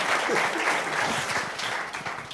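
Audience applause fills the room at a business gathering, a steady, dense clatter of many hands clapping close by, with faint voices underneath.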